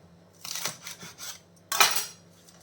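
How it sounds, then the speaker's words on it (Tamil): A knife finely chopping vegetables on a cutting board, heard as two short clusters of close, crisp clattering taps separated by a brief pause. "இனி வந்து இதை பொடி பொடியாக இப்படி கட் பண்ணணும்"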